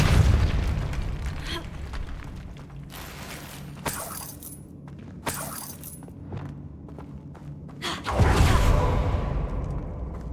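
A Depulso spell cast in the video game Hogwarts Legacy, heard as heavy booming bursts mixed with clanking, ratcheting mechanical sounds over a steady rumbling background.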